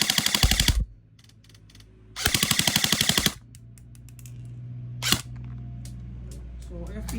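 ICS MK18 airsoft rifle firing full auto in two short, loud, rapid bursts of sharp mechanical clacks, followed by a lone click and quiet background hum.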